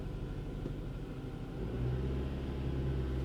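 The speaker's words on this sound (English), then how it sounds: "So the engine is running." A 2008 Mazda 3 engine idles with a steady low rumble that grows slightly louder and fuller partway through, heard close with no talk.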